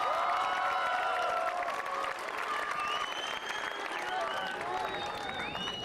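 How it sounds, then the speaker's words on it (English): Steady applause from a school graduation audience honoring top graduating students, a dense continuous clapping from a crowd throughout, with a few voices and cheers mixed in. "Please give these outstanding students a round of applause."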